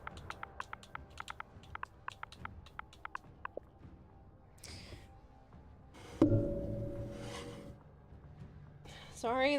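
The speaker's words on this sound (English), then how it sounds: "that was the sound of my water bottle smacking the microphone" A water bottle smacks into a microphone with a sudden loud thump, followed by a few seconds of rumbling handling noise, after earlier light clicking taps.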